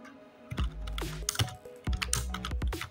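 Typing on a computer keyboard while entering text for an envelope design in Photoshop, with bursts of close, clattery keystrokes in quick irregular runs and short pauses between.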